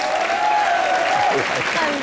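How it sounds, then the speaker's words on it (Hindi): Studio audience applause on a Hindi TV comedy show, steady and continuous for about two seconds, with a sustained tone and a voice running over it. "जोरदार तालियां बजाइए इनके लिए"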